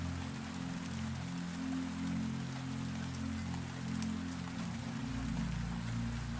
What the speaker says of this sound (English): Rain gathers on the glass roof and runs in silver threads down the panes.